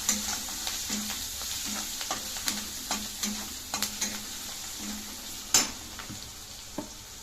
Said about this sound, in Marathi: थोडीशी हळद, एक चमचा लाल तिखट, त्याला परतून घेऊया।